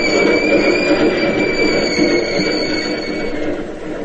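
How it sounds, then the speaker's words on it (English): A Key System electric train rolls down the ramp off the Bay Bridge into the terminal, a loud steady rumble with high wheel squeal held throughout and slowly easing off. "one of the key system trains is going into the terminal"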